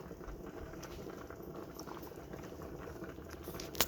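Gravy for chicken fried steak bubbles softly as it thickens while being stirred, a faint, close, continuous blip and pop of boiling liquid with no talking.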